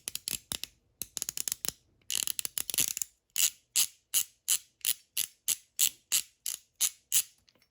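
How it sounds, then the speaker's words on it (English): A Hyper Tough ratcheting screwdriver clicks close up, first in quick irregular bursts, then in a steady series of about a dozen evenly spaced, crisp ratchet clicks, fairly quiet with no talking. "And here's the ratcheting sound again."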